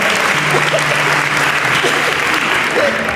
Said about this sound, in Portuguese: Aplaude a irmã que está sentada do meu lado